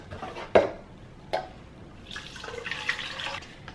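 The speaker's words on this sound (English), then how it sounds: "So I'm going to pour me a cup to start off my day." Cold brew iced coffee poured into a cup, starting with two brief clinks followed by a steady liquid pour that runs for over a second near the end, moderately close and with no voices.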